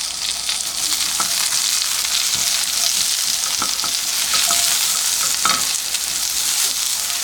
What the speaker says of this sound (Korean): 살짝만 볶으셔야 됩니다